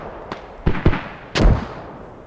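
Mortar rounds landing in the military shooter game Squad: a few sharp explosive bangs, two quick blasts followed by a heavier, longer boom, fairly close and loud over quiet background.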